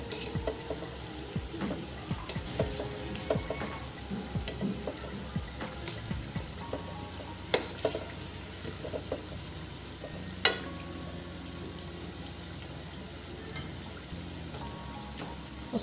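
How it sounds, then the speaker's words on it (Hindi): Samosas deep-frying in hot oil until golden, turned over partway, give a steady close sizzle and bubbling crackle with occasional sharper pops, alone with no voices. "उसके सुनहरे होने तक भून कर लाए।"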